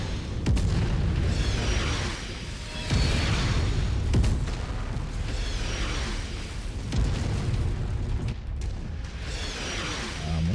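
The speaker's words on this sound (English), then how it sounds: "Dodging our own artillery." Artillery shells burst over and over in the Mechwarrior 5 video game, deep rolling booms arriving in waves every couple of seconds with sharp cracks between, loud and close, with no voices.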